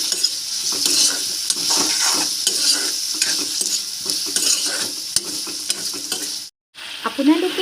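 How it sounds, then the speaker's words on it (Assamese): Tomatoes with salt frying in a pan while being stirred, a continuous loud sizzle with scraping strokes of the spatula and brief clinks, no talking, with a short silent gap near the end. "এতিয়া আমি বিলাহীখিনি প্ৰায় গলি যোৱালৈকে ভাজিব লাগিব।"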